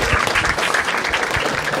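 A crowd at a Marathi stand-up comedy show applauds, a dense steady wash of many hands clapping close and loud throughout, with no voices over it.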